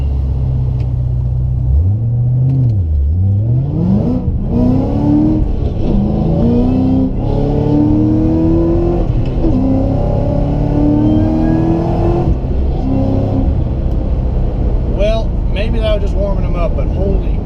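A 700 hp Ford GT500 on Nitto NT05 drag radials launches from a dig, its engine roaring loud and close as it revs up through the gears in rising sweeps, with a brief drop at each shift.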